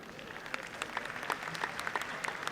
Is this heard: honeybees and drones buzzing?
no